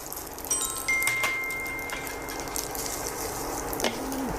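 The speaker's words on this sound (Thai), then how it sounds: "แล้วก็ผัดหน่อยครับให้เข้ากันเร่งไฟสักนิดนะครับ" Freshly boiled spaghetti for carbonara is stir-fried in a little oil in a pan over rising heat, giving a steady hiss and sizzle with occasional scraping and clinking of utensils.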